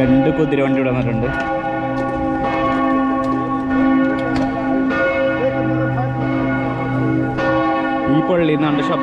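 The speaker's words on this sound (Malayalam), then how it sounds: "പള്ളിയുടെ മണിയടിക്കുന്നതുകൊണ്ട് ശബ്ദത്തെത്തോളം ക്ലിയർ ആണെന്ന് അറിയില്ല." A steady peal of church bells in an Austrian city, loud and layered, with overlapping tones ringing on and on and faint voices now and then underneath.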